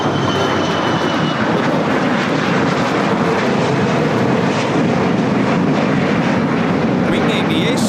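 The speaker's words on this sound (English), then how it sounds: "Wing Aviation Flight 66 taking off to Washington Dulles on the Gulfstream G400" A Wing Aviation Gulfstream G400 business jet taking off at Los Angeles International, a loud, close, sustained engine roar with whining turbine tones, spoken commentary running underneath.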